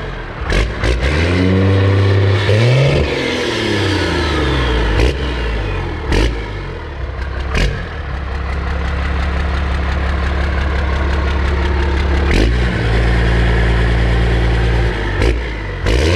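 A first-generation 12-valve Cummins diesel rumbles loud and close at a deep, steady idle, broken by several sharp revs whose pitch climbs and falls back, with no voices over it.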